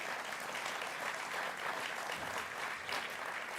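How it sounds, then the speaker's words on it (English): A political conference audience applauds in a steady, dense wash of clapping from many hands, sustained evenly throughout with no pauses. "Don't applaud me."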